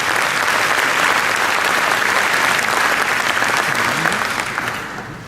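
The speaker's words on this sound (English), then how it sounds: "Can we have a round of applause for our S&D category?" A ceremony audience at the 2018 ZFEP Awards applauds a finalist category. The clapping is loud and dense, holds steady for several seconds, then tapers off at the end.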